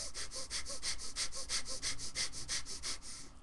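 Fast, rhythmic panting breaths of yogic fire breath, a steady train of about fifteen sharp puffs over a few seconds, close and clear with no talking.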